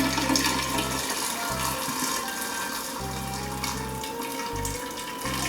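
Tap water pours steadily into a container for brewing kombucha tea, a close continuous rush with a low hum that cuts in and out beneath it.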